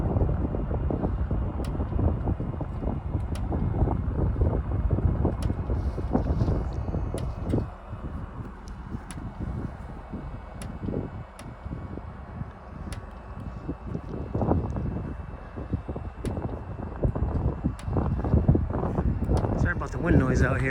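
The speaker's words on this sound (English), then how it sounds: "Sorry about the wind noise out here." Low, rumbling wind buffets the microphone throughout in an outdoor firewood yard of oak logs, heavy and gusty, with someone talking intermittently and occasional sharp knocks.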